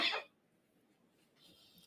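A single short cough bursts out at the start of a police press conference, then fades into quiet room noise with faint rustling.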